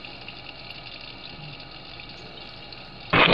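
Tap water runs steadily from a faucet while a peeled hard-boiled egg is rinsed, a close, continuous hiss that swells suddenly louder near the end.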